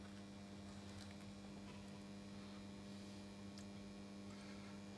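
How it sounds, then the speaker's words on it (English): Steady electrical hum and buzz from an old 110 volt machine with dodgy electrics, a constant low drone with faint crackles on top, continuous and fairly quiet throughout. "dodgy electrics at its best. Let's switch that on. We're humming and we're buzzing."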